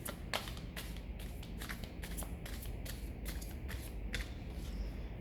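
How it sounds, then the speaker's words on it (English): Rapid riffling bursts of playing cards being shuffled, repeated several times in quick succession, close and crisp with no talking. "and one more shuffle"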